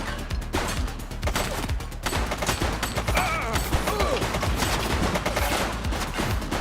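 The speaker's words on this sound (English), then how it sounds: "Shots fired!" Gunfire in The Precinct police video game: a sustained, dense barrage of shots and bursts at close range amid loud action noise, with no pause throughout.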